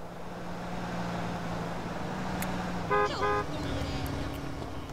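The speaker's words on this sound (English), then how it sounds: "How do I hear a car and there's no car?" Two short car horn toots in the video game GTA San Andreas sound in quick succession over a steady low hum of background noise.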